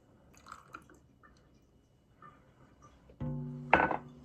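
Infused simple syrup pours into a cup of coffee, ending in a short, loud liquid splash and glassy clink after several seconds of faint, quiet handling sounds.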